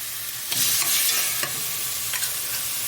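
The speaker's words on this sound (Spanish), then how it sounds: "Ahí se nos va cocinando un poquito el calamar." Squid and octopus sizzle loudly in a pan for a seafood stew, with a steady hiss and a few sharp stirring scrapes, close up and with no voices.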